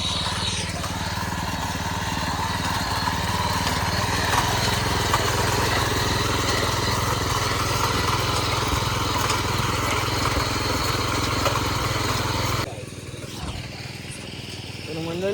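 A new tractor engine running while ploughing a farm field, a steady loud close drone holding for about twelve seconds before dropping in level, with someone talking over it.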